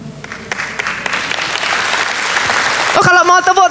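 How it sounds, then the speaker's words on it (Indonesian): Congregation applauding during a church sermon, a dense, steady wash of clapping for about three seconds before it gives way to a burst of music or amplified sound at the end. "Oh, kalau mau tepuk tangan dong, yang di atas boleh tepuk tangannya yang paling meriah buat Yesus Tuhan kita"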